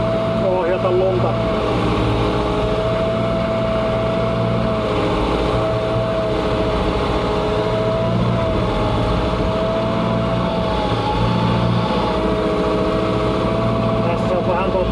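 A homemade snow plow vehicle's engine runs steadily while it drives over a gravel yard with large stones, a loud continuous mechanical drone with a constant tonal hum throughout.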